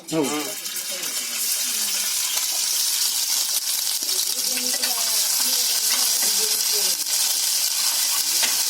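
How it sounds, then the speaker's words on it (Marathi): Onion sizzles and fries in an oil-filled pan in a home kitchen, a steady bright hiss with occasional stirring, while voices talk over it. "कांदा लाल होईपर्यंत परतवणार का थोडासाच परतवणार तुम्ही आता?"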